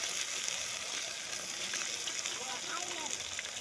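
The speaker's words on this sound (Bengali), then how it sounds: "তারপর দিল জিরা, তারপর দিল পেঁয়াজ।" Cumin seeds and onion frying in a hot pan give a steady, dense sizzle with soft crackles throughout, moderately close and continuous without a break.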